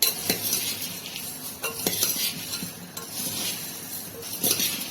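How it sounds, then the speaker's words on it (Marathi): Spoon mixing wet bhel of puffed rice, sev and farsan in a metal pot, irregular scraping clinks and taps against the vessel, close and steady with no talk. "भेळ ही पातेल्यात छान मिक्स करता येते।"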